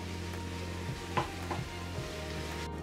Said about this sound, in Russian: Вот до такого состояния обжариваем чеснок